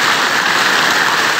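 Steady rain pours down onto an outdoor cooking fire where fish is being grilled at an overnight stay in a durian orchard, a loud, dense, continuous hiss of drops on surfaces with no talking.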